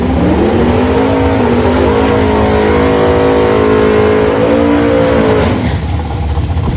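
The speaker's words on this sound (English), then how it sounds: "665 cubes behind the seat of that hot rod" A hot rod drag racing car with a 665 cubic inch engine roars loudly at the Woodburn, Oregon drag strip, its heavy engine note climbing steadily as it revs, then cutting off abruptly near the end.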